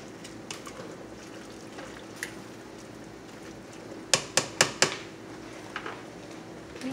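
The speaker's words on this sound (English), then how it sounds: "We're just gonna give this a quick stir." A quick stir of vegetables in a cooking pan for pasta pomodoro, with faint sizzling under a short burst of four sharp utensil scrapes and taps against the pan.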